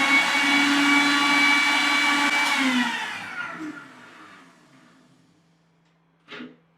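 A mixer grinder blends a watermelon milkshake with a loud steady whir, then its motor winds down and fades to quiet before a short clunk.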